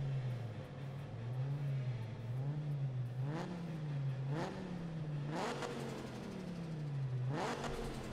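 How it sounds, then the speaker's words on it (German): A Dodge Viper's 8.6-litre V10 revs repeatedly in Need for Speed, rising and falling through several sharp climbs over a steady engine drone with no talk. "Dann hört ihr den Motorsound."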